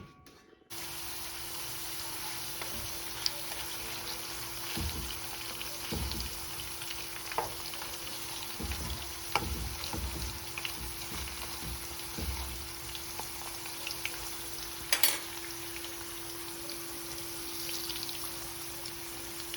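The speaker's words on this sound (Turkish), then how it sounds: "Şimdi patatesleri doğrayıp patates kızartacağım." Freshly chopped potatoes fry in a pan in a village kitchen, a steady close sizzle and hiss that runs throughout, with occasional clinks and stirring noises and no talk.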